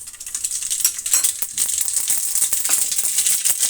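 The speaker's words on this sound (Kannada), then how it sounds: "ಸ್ವಲ್ಪ ಸಾಸಿವೆ ಹಾಕೋಣ." Mustard seeds sizzling in hot oil while tempering a sprouted mung bean sambar, a steady bright crackle with scattered pops and spatters close by throughout.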